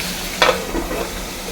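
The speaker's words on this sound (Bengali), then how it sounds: "মাছগুলো আস্তে আস্তে করে আমি ভাজা করে নিই" Fish pieces rubbed with salt and turmeric fry slowly in a pan, with a soft continuous sizzle and a sharper spattering burst early on.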